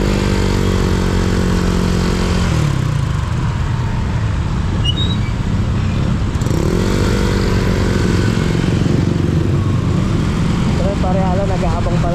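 Several motorcycles riding together on a road, engine drone steady and loud throughout with harmonic revving rising and falling, wind rumble, and voices talking over it.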